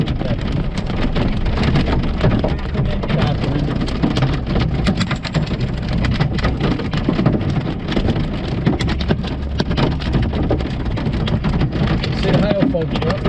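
Hail hammers a storm-chasing vehicle as it drives through a hail core, a dense, steady roar of impacts with rumbling road noise continuing throughout.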